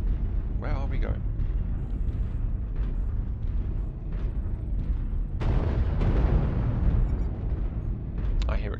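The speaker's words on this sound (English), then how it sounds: "I hear explosions, but I don't know where from" Explosions and weapon fire in the mech combat game Mechwarrior Online, a rumbling layered barrage with a stronger boom midway, heard under someone talking.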